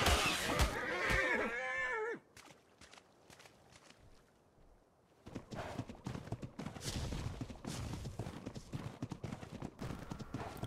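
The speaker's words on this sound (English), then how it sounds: "the horse is tamed, and now we're heading down to the beach" Clip-clop of a tamed horse's hooves in the video game ARK, a steady run of close, crisp hoofbeats with a brief whinny near the start, then quieter steps before louder trotting resumes.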